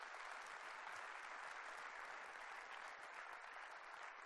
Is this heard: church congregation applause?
yes